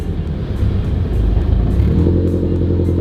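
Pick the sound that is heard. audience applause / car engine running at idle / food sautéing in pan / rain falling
car engine running at idle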